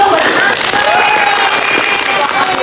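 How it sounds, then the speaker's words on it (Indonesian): Audience applause in a school guidance-counseling classroom session, a steady wash of clapping filling the whole moment with voices and chatter mixed underneath. "Tepuk tangan dulu dong buat"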